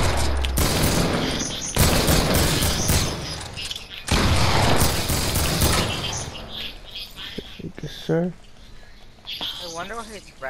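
Video game gunfire crackles in dense bursts through the first half, loud and sustained, then fades as voices talk and a few short bursts come through under them.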